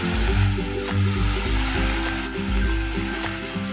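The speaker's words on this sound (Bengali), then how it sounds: "এখন আগে থেকে নুন হলুদ মেখে রাখা মাছগুলো আমি ভেজে নিব।" Pieces of catla fish rubbed with salt and turmeric fry in hot oil in a wok, giving a steady, close, continuous sizzle with slight swells and no voices.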